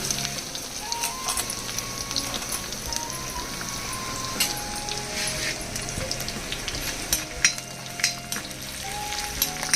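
Chana dal and urad dal frying in hot oil with garlic, a constant close sizzle and crackle with scattered pops, under soft background music.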